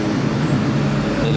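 A Ferrari Competizione coupe passes on the streets of Monaco during a historic Grand Prix rally, a dense low engine rumble and road roar holding steady and fairly loud throughout this brief moment.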